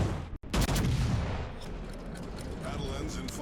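Naval guns boom in World of Warships: one sharp blast after a brief silent gap, then a rolling salvo of heavy reports that fades into a long rumbling tail.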